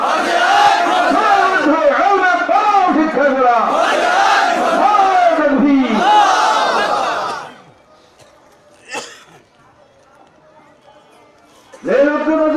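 A large crowd at a Bengali Islamic sermon gathering chants slogans loudly in unison for about seven seconds. Near-silence follows, broken by a brief sound and then a short burst of voices at the end.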